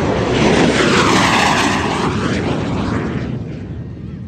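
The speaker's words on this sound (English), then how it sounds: "Red Mig, a little confused as Jason's coming by for another low pass, smoke on, get your cameras ready" A MiG-17 jet making a smoke-on low pass at the Camarillo airshow, a loud, close, continuous broadband roar that swells and slowly fades as it passes.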